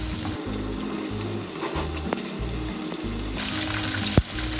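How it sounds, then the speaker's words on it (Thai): Hot oil sizzles and crackles steadily as chicken wings deep-fry close by, with faint clinks and a brief utensil knock. "พอน้ำมันร้อนก็เอาไก่ลงทอดเลยนะคะ"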